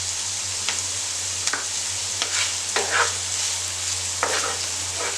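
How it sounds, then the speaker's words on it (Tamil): Onions sautéing in a pan for a methi omelette make a steady sizzle and hiss, broken by a few brief stirring scrapes, close and even throughout, with no speech. "வெங்காயம் நல்லா வதங்கட்டும்"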